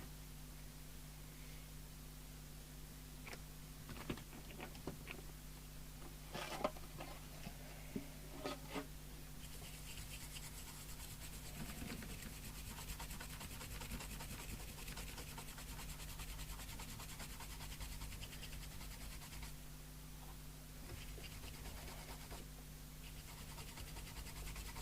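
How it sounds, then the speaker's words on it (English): A toothbrush soaked in isopropyl alcohol scrubs the circuit board of a Midland 77-104D-UK CB27/81 FM CB radio, giving a soft, steady bristly scratching under a constant electrical hum, with a few sharper ticks early on. "Get Mr. Chippy's toothbrush out"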